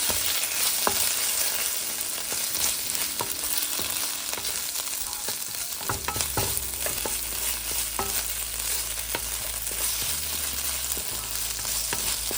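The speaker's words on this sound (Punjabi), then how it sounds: "ਅਦਰਕ ਤੇ ਲਸਣ ਦਾ ਪੇਸਟ ਇਹਨਾਂ ਨੂੰ ਆਪਾਂ ਸਹੀ ਭੁੰਨ ਲੈਣਾ ਹਿਲਾ ਕੇ ਚੰਗੇ ਤਰੀਕੇ" Ginger garlic paste fries for restaurant-style paneer lababdar, a steady close sizzle broken by repeated spoon scrapes and taps as it is stirred, with no talking.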